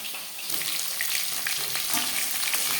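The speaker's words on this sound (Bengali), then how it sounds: "জ্যান্ত মাছ আমি একটু হালকা করে ভেজে নিচ্ছি" Steady, dense sizzle of silver carp frying in hot oil, crackling continuously with small pops throughout, close by.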